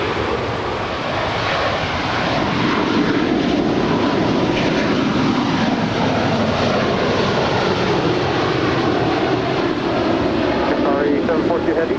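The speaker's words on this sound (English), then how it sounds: "That is Qatar Airways Flight 742 departing to Doha in Airbus A350-1000" Qatar Airways Airbus A350-1000 departing LAX for Doha, a loud sustained jet engine roar rising and holding at full takeoff power, with talk mixed in over the steady rumble.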